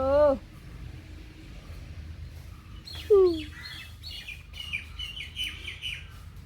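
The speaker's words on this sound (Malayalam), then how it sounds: "മൈനകൾ കിടന്ന് കരയുന്നു" Mynas call out nearby, with sharp descending squawks and chattering whistles over low background rumble.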